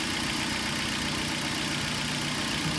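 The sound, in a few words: car engine idling while spray is fed into air intake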